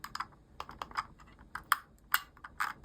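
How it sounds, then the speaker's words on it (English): Metal ratcheted scroll wheel on a Logitech M720 Triathlon mouse, a quick series of small, crisp, uneven clicks and ticks, close and quiet, with no talking. "this has the ratcheted wheel, but you can also click it to have a bearinged loose spin wheel"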